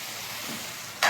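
Chicken gravy curry with cashews stirred in a pan, a steady close sizzle with soft scraping throughout, ending in a sudden louder burst of hissing.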